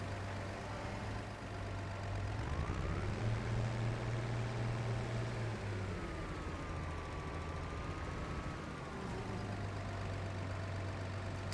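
A slow farm tractor engine drones steadily at close range on a field track in the Judith Plains of Montana, a continuous low rumble with rising and falling whine.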